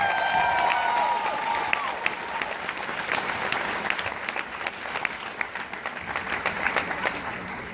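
An audience at a film Q&A at Sundance 2018 breaks into sustained applause, dense clapping from a full room with a few cheers, steady and loud throughout the clip.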